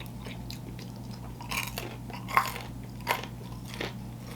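Crunchy fried pieces of Colombian food are bitten and chewed close up, giving several crisp crunches over a steady low background hum, with no one talking.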